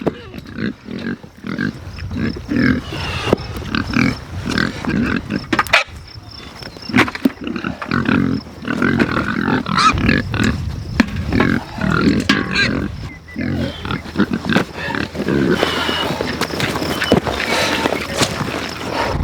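Pigs on a family homestead grunt and snort steadily while being fed, a busy, close chorus of overlapping grunts with rustling and clattering throughout.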